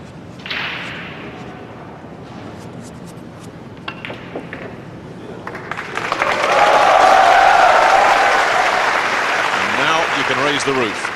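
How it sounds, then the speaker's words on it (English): A crowd at a 2004 world nine-ball pool championship match breaks into a loud swelling cheer and applause that builds and is sustained. A commentator's voice and a few sharp thumps come before it. "Here's the first big cheer coming up."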